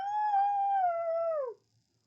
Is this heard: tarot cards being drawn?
no